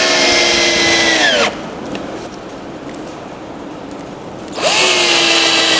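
A power drill drives screws into plywood in two loud bursts, each ending in a falling motor whine, with a quiet pause between them.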